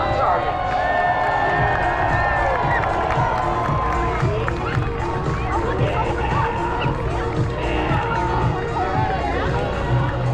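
An airshow crowd cheering and clapping for parachute jumpers coming in to land, a steady loud roar of voices with an announcer talking over it.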